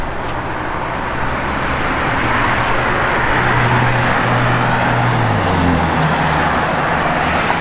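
A 1964 Chevrolet Impala SS on the move, its engine giving a low, steady drone under broad road noise, with pitch shifts as it changes speed.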